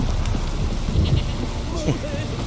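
A heavy downpour in the video game The Witcher 3 pours down as a dense, steady hiss and patter filling the whole stretch, with a few faint higher calls and brief sounds scattered over the rain.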